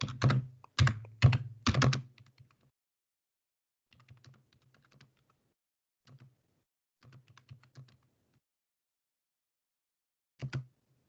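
Close computer keyboard typing during an online class: a quick flurry of key clicks at the start, then scattered sparse taps and a final short burst, with near-silence between.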